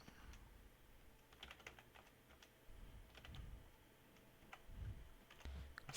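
Faint, quiet clicking of keys on a computer keyboard, in irregular short bursts of typing with pauses between.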